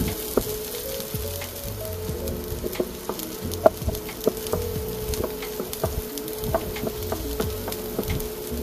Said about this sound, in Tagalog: Maglagay na tayo ng ating onion. Yan, i-golden brown lang natin.